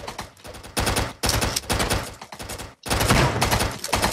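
Rapid bursts of gunfire in the Hatchet flash video game, loud, dense machine-gun volleys broken by brief gaps, with no talking.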